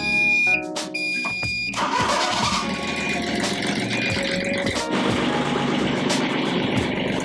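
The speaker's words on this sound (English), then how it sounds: "Let me try starting it up." The inboard engine of a Catalina 30 sailboat, just after an oil change, is started: a high beeping warning tone sounds first, then the motor cranks, catches and settles into a steady, close idle.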